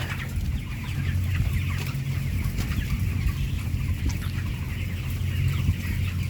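Chickens cluck in a steady low-pitched murmur from a flock kept on rack-style flooring, a continuous moderate-level chorus without any speech.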